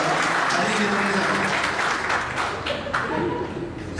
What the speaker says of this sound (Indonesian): Tepuk tangan untuk Stage Manager, saudara.